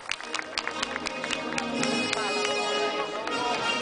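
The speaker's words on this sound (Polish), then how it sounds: "Większe brawa." An audience applauds and cheers actor Paweł Królikowski at an evening event, with dense, steady clapping that swells and holds throughout, mixed with crowd noise and a few louder claps near the front.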